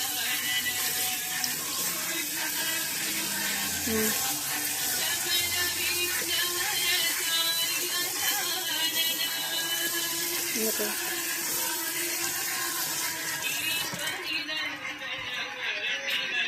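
Tap water runs steadily into a kitchen sink while dishes, a bowl and spoons are rinsed, a continuous hiss with faint clinks beneath it that drops away near the end.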